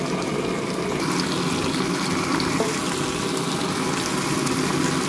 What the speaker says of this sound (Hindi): अब हम इसको छान लेंगे और इसके ऊपर से ठंडा पानी गुजारेंगे ताकि ये आपस में मिक्स ना हो।